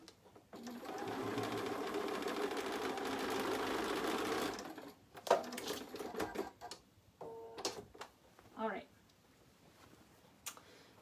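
A sewing machine stitches quilt pieces together in a steady mechanical whir for about four seconds, then stops, followed by scattered soft handling clicks and rustles with a faint voice.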